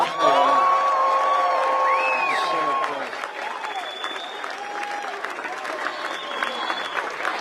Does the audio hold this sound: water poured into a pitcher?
no